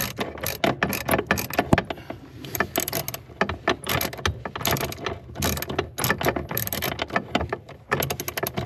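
A hand ratchet works nuts off the brake power booster of a 1976 Corvette, giving rapid bursts of close, crisp clicking in an irregular stop-start rhythm with short pauses between strokes.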